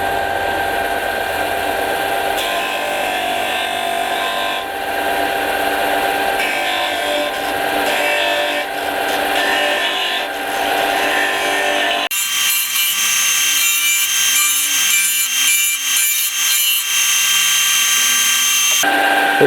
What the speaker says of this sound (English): Let's try out the disc sander.